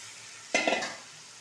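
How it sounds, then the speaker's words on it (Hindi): Beef trotters are tossed into spice masala to fry, giving one sudden loud sizzle and stirring scrape that fades quickly back to a quiet background. "इसको हम मसाले में डाल के भून लेंगे"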